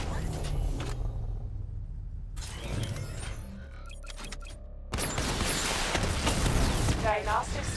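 The Batmobile's missile barrage fires in Batman: Arkham Knight, a loud burst of rapid mechanical launches and crackling blasts that surges midway over a steady engine rumble, with game sounds layered on top.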